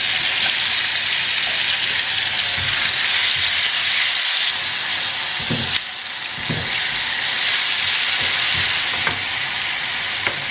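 Chopped tomatoes go into a hot pan and sizzle loudly and steadily, a continuous frying hiss with a few stirring knocks, no voices.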